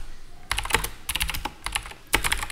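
Close, brisk clatter of computer keyboard keys as a terminal command is typed, in short bursts of rapid keystrokes with brief pauses between them, and no one speaking.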